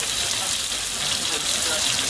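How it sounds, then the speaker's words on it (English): Herrings frying crisply in a pan, a steady loud hiss and sizzle of hot oil throughout. "what we need to do is fry them a little bit crispy"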